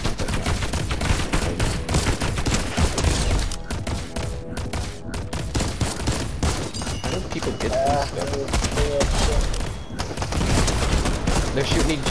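Gunfire in a horror map in Fortnite, loud dense bursts of shots and booms crackling continuously, with a voice talking in places over the battle.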